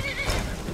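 A horse neighs in Skyrim Special Edition, a short shrill whinny with a faint clip-clop of hooves, loud and close against a busy game background with no talk.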